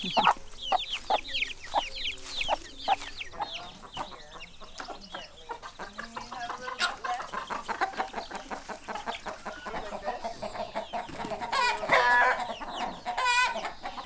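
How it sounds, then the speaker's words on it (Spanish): Agitated clucking from a mother hen guarding her chicks on a farm, sharp repeated calls and squawks close by with bursts of higher chick peeps, continuous and fairly loud, no talk. "la mamá gallina se enfada mucho con todos"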